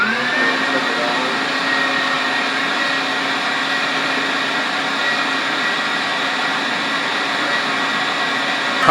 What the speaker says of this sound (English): So I'm going to cut the fat into little cubes and run it through the grinder.